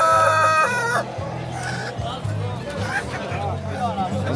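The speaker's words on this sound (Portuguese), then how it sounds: "Muita galinha aqui." Several chickens cluck and a rooster crows nearby at a poultry and pig market in Surubim, Pernambuco, with people talking and a busy crowd hubbub throughout.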